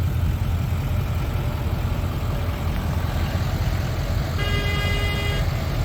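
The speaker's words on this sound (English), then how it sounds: "They were honking the daggone horn." A car horn toots briefly near the end, sounding over a steady idling engine and loud vehicle rumble during a truck rescue and trailer loading.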